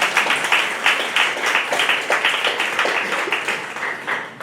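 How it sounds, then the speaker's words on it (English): An indoor audience claps for the event's liaison at a gathering of artists, a dense, steady round of applause that continues evenly throughout. "Yeah, you go ahead and clap for her"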